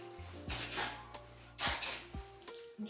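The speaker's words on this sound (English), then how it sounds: "just spraying my hair" Hair spray hisses from an aerosol can onto hair indoors in two main bursts of about a second each, followed by a short final puff. The sound is close and fairly soft.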